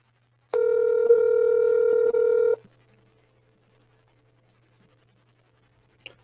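A telephone dial tone on a recorded phone call, a steady electronic hum that sounds for about two seconds and then cuts off, leaving near silence with a faint click at the end.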